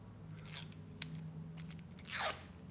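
A NYX jumbo eye pencil's plastic packaging is pried and crinkled open, giving several faint crunching and tearing bursts with a louder crackle near the end over a quiet room hum.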